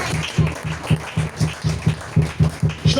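A church congregation claps in a steady rhythmic beat, about three or four claps a second, loud and close with a faint roomy wash behind.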